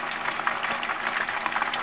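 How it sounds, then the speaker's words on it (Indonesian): Chicken skin crackles and sizzles steadily as it fries in oil in a pan, a dense continuous hiss with small popping bursts throughout. "kita goreng kulitnya dulu ya."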